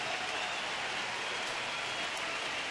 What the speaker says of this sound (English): He'll receive a nice ovation from this crowd here at Progressive Field